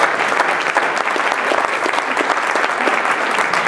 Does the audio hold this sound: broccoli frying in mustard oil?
no